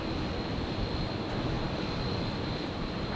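Steady, loud, continuous drone of a propeller aircraft taxiing at Brisbane Airport, a broadband engine roar with a faint high whine, holding level throughout.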